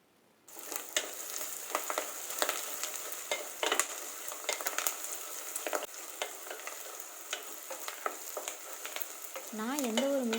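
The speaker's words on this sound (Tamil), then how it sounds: "அதை சேர்த்துட்டு 1 கப் அளவுக்கு சின்ன வெங்காயம் 2-3 கொத்து கருவேப்பிலையிலையும் சேர்த்து நல்லா வதக்கி விட்டுறலாம்." Garlic, small shallots and curry leaves sautéing in hot oil for a stingray fish curry, a steady close sizzle with repeated scraping stirs throughout and no talking.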